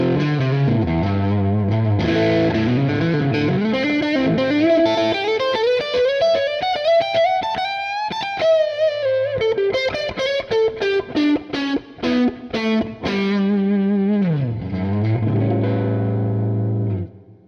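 Distorted electric guitar, with effects and a chorus-like shimmer, plays a continuous loud lead line of bends, slides and choppy repeated notes that ends on a low sustained chord.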